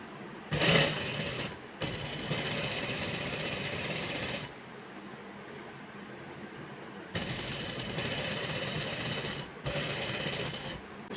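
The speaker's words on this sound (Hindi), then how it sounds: "अब हम ये जो फिटिंग का निशान लगाया था इस पर सिलाई करेंगे" A sewing machine stitches over a fitting mark on fabric, a loud continuous mechanical whirring in long runs broken by short pauses.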